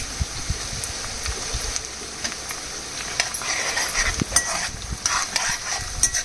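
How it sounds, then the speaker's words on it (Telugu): Curry leaves added to hot oil in a pan with green chillies sizzle and hiss steadily, with soft clicking stirring taps and small pops scattered throughout at close range. "ఇప్పుడు కరివేపాకు వేసేయాలి."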